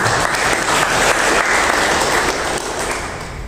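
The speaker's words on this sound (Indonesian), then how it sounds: "beri aplaus dulu untuk para wakil rektor" An audience at a vice rector inauguration ceremony at Universitas Teknologi Bandung breaks into sustained applause, a dense even wash of clapping from a crowded hall that tapers slightly near the end.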